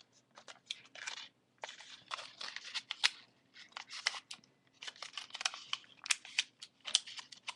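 Origami paper being folded into a cherry blossom: quiet, close crinkling and creasing in irregular bursts with short pauses, paper rustling and snapping lightly under the hands.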